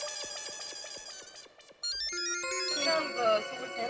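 A phone ringtone plays a bright, repeating electronic melody at close range for a few seconds, with a short break partway through.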